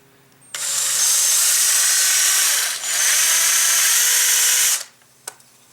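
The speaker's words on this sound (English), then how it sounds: "You want to drill at an upward angle" A power drill whirs loudly and steadily for about four seconds, drilling at an upward angle into wood for a skull mount plaque, dipping briefly midway, then winds down, followed by a small click.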